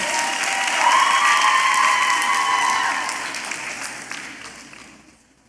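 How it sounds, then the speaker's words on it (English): An audience applauds after an arangetram Indian classical dance performance, a warm round of clapping that holds strong for about three seconds, then fades out over the next two. "that deserves another round of applause"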